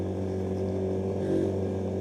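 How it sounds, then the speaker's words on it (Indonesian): A car climbs a steep coastal road, its engine droning steadily and straining slightly louder toward the end, heard at moderate distance with no speech. "Tapi ada mobil loh, kuat loh mobil."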